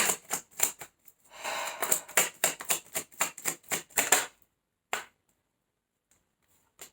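Tarot cards are handled and pulled from a deck in a rapid run of crisp, close snaps and flicks, followed by a couple of isolated taps and then near silence.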